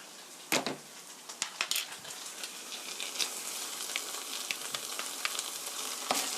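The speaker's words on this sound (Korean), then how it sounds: "고루 볶아주세요." Tomato sauce with ketchup and brown sugar stir-fried in a pan, a soft continuous sizzle broken by scattered pops and crackles of stirring, quiet and close.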